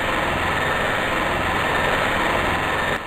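Small electric motor on an automotive electronics bench runs with a steady, loud, dense whir, then drops sharply near the end as the motor is jammed under overload.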